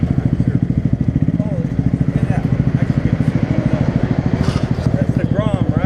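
A Honda Grom small motorcycle engine idles steadily with a fast, even putter at a car meet in Topanga Canyon, close and continuous, with voices talking over it.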